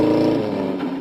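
Home-built car engine, a 1500cc four-cylinder with two carburetors, running after the choke is pulled and the starter used, a close, loud steady motor drone that dips slightly toward the end, no talking.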